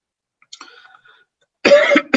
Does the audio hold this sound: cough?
yes